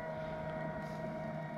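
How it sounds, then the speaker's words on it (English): An RC Thrasher jet boat pulling a tube across water makes a faint, steady high-pitched motor whine at a distance, continuous and unbroken. "with no rudder, the jet boat actually has to turn the jet and have thrust in order to turn the boat"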